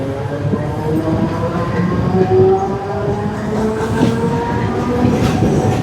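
The Mangala Lakshadweep Express, hauled by a WAP-7 locomotive from Tarapur Kalyan shed, rolls past close by, a loud continuous rumble with rhythmic wheel clatter and metallic squeal, heard from a Mumbai local train route near Kalyan.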